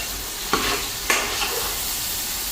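Stirring food in a sizzling pan during home cooking, with a steady fry hiss throughout and two distinct scraping strokes of the spoon close by.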